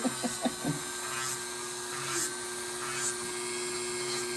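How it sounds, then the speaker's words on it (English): A Dremel rotary tool running on low speed files lightly across acrylic nails during a manicure, giving a steady, thin high whine throughout with a few soft taps at the start. "I got my Dremel on low. I'm just kind of shaving the nail just so lightly,"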